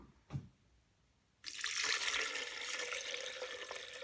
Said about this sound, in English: we're just going to put the nuts into here like that, and then some water